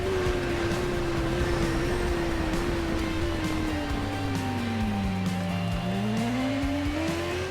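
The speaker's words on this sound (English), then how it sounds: "This 2019 BMW S1000RR tops out at about 190, but it's got good brakes and it's pretty sharp in the corners" A 2019 BMW S1000RR superbike in TT Isle of Man races along, its engine a steady high-revving whine that dips and climbs through a corner, with continuous wind and road roar underneath.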